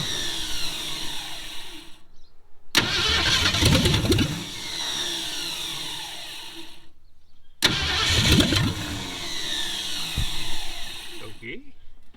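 An old Ford Mustang abandoned for over 20 years cranking and trying to start, two long bursts of loud churning starter and sputtering engine noise separated by brief silence, with people talking nearby.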